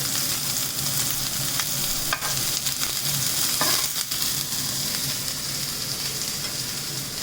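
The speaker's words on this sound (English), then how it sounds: "once you add the onion, just give it a quick stir, reduce it to medium." Onions frying in a pan give a steady, loud sizzle that fills the whole stretch, with occasional scrapes and clicks of a spoon stirring them, and no talk.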